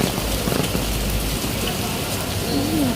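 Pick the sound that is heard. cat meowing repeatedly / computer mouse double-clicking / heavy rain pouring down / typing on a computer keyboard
heavy rain pouring down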